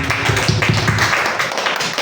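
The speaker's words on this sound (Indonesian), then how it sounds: "tepuk tangan untuk kita semua" Classroom applause as students and teachers clap together, a brief burst of close, dense hand claps that stays fairly even and starts to thin out toward the end.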